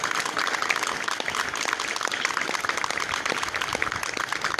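A school audience at a 2020-2021 start-of-classes ceremony at Liceo Jacinto de la Concha applauding the teachers, a continuous moderate patter of many hands clapping at a distance.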